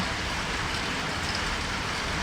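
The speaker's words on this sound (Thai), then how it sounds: "วันนี้ฝนตกหนักจริงๆนะคะ" Heavy rain falls steadily in a continuous dense hiss of drops on surfaces, loud and unbroken with no pauses, and no voices or other sounds are heard over the downpour.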